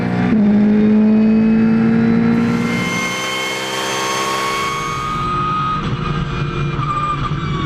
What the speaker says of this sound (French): C'est parti pour ce premier départ lancé du week-end depuis l'anneau du Rhin.